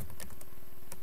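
Fast, steady keystrokes tapped on a computer keyboard, a close and continuous patter of clicks with no voices.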